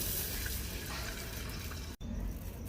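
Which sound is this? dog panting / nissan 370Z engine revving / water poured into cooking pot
water poured into cooking pot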